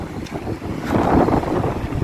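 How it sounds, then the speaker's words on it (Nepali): The flooding Marpha Khola river in Mustang rushes by thick with mud and water, a rough, surging roar heard close up with wind buffeting the microphone. "सिधै लेदो र पानी मात्र बगिरहेछ यो मार्फा खोला"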